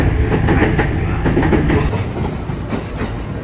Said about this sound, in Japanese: 乗ってきた電車はここから奈良に向けて出発していきました